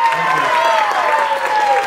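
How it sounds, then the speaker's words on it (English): Audience applause at a magic show during the 2012 New Panihati Festival, a sustained burst of clapping under tonal sounds and voices. "Big applause for Dana Treya."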